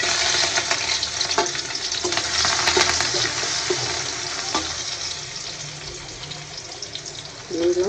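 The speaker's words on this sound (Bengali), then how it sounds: "পাতিলটা বসায় দিয়েছি, এখন দিয়ে দেবো পেঁয়াজ কুচি।" Chopped onion dropped into a hot cooking pot, frying with a steady loud sizzle and crackle throughout, with occasional stirring clatter.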